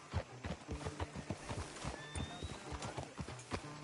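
Hooves of a video-game horse clip-clop in a steady walking rhythm throughout, up close and fairly loud, with a brief whinny-like tone and no talking.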